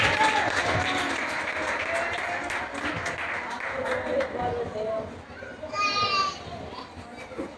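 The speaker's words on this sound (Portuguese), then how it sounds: "Receba a serva do Senhor com uma salva de palmas." Church congregation applauding during a Pentecostal family service in Maceió, a crowd's clapping mixed with children's voices and lively chatter, the clapping fading in and out beneath the noise.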